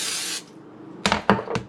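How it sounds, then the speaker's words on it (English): Pam cooking spray hissing in one short close burst over a tuna melt quesadilla, followed by a few quick clatters of a pan or utensils; no talking. "Lightly spray the surface of it with Pam spray."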